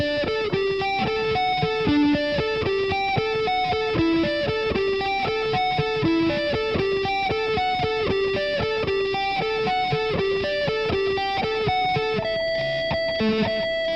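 An electric guitar plays an intro lick, a steady, repeating run of picked notes with light distortion, close and clear from start to end.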